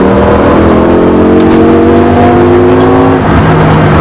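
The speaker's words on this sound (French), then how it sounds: "Vous avez vu comme ça s'énerve dans les tours à partir de 5000 là, comme elle s'emballe." A BMW M6 with a V10 engine revs hard and climbs high, a loud, sustained rising whine with layered harmonics that holds steady close by from start to finish, no talking.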